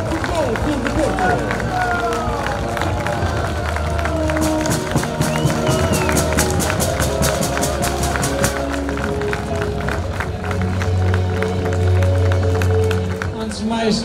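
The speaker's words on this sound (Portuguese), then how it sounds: "Um forte aplauso para a W52 Futebol Clube do Porto." A crowd applauds and cheers the W52 FC Porto cycling team at the final Porto–Vila Nova de Gaia stage of the Grande Prémio JN. A dense rush of clapping rises midway under continuous announcer speech and crowd murmur.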